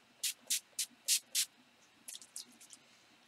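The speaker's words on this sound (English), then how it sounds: "I should do is go in with my setting spray, which I'm actually going to go in with my NYX Dewy Mist" A NYX Dewy Mist setting spray is pumped onto a face in five short, crisp hisses, then a quicker burst of five lighter sprays. It sounds close up and quiet, with no talk.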